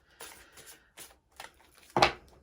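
Several brief papery riffles and flicks of large tarot cards being shuffled, close by, uneven in rhythm, ending with one louder snap.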